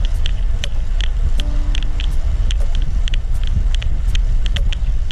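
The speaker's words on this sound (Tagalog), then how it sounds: "Kasalukuyang may side wind dito sa may kanan." A strong crosswind from the right buffets the microphone with a constant low roar during a ride, joined by a rumbling vehicle and scattered sharp clicks.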